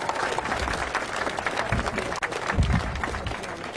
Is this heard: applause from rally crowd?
yes